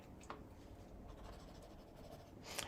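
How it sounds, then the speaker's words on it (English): Graphite pencil drawing on paper, a soft continuous scratching of strokes, quiet and close, with no talk. "I'm going to do a graphite, you know, pencil drawing in here first."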